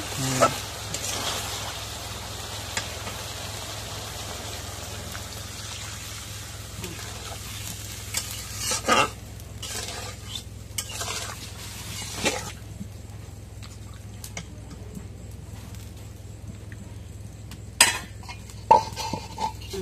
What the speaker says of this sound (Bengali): এখন মাংসটা কষানি হচ্ছে